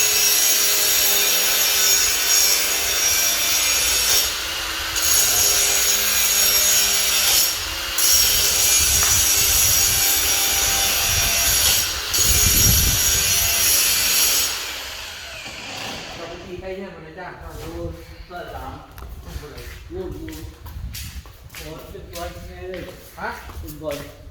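Wood being cut, likely by sawing, in a workshop where welding and cutting go on: a loud, continuous rasping grind for about fifteen seconds, then it stops and people talk over quieter knocks and clatter.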